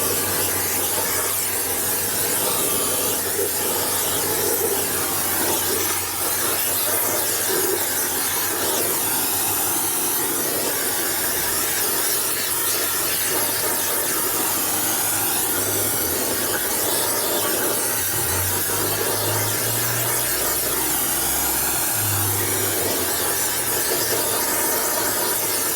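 A torch roars steadily at close range while burning solvent off the inside of a 1972 Harley-Davidson Sportster Ironhead engine case, a continuous loud hissing rush with no pauses throughout.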